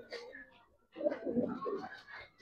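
Giribaz pigeons give soft, low, close-up coos in a couple of bursts, with some quiet voices in the background.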